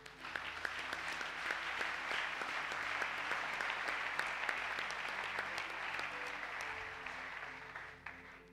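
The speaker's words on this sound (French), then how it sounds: "Acclamez d'abord pour le Seigneur." A congregation at an Easter church service claps steadily and fairly softly, with a sustained even applause that fades slightly toward the end, and no talking is heard.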